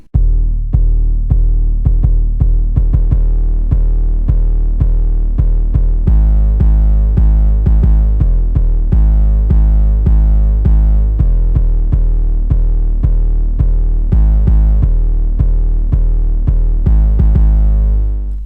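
A heavy distorted 808 sub bass from the VIPSL 808 Bangz Kontakt instrument plays a steady rhythmic pattern of booming, gritty notes, very loud and continuous with no voices.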